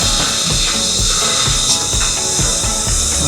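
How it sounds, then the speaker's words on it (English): City construction noise in Da Nang, Vietnam: a dense, loud, continuous wash of power-tool whine, hiss and rhythmic mechanical clatter, steady throughout with no pauses and no talk. "I can just hear construction everywhere"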